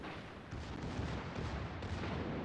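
Naval gunfire in World of Warships during a tournament match, heard as dense, continuous rumbling booms from heavy ship guns, with overlapping distant blasts throughout and no talk.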